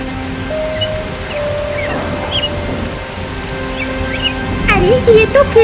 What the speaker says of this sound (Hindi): अरे ये तो फिर से बारिश शुरू हो गई।